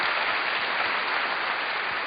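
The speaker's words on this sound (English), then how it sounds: "Can we get a round of applause for our lady?" An audience claps in steady, dense applause for about two seconds, evenly loud from start to finish with no voices over it.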